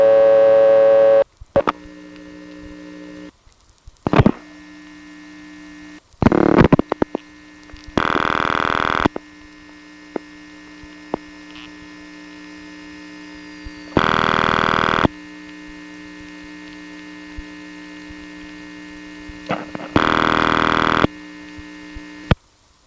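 A 1978 independent step-by-step telephone exchange in Cabot, Vermont, heard over the line: selector clicks and hunting clatter, then a steady hum broken by repeated long ring bursts, each several seconds apart, as the call rings unanswered.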